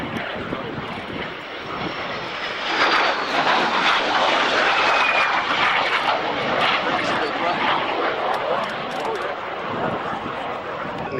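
A post-war Allied jet, the first Allied aircraft to exceed 500 mph, passes at an air tattoo at RAF Fairford in 1994. Its broad engine roar swells and holds over wind and crowd noise while a commentator speaks.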